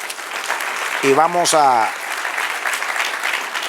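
Applause from a church congregation at the close of a Bible history class, a steady broad wash of clapping that fills the clip while a voice speaks over it.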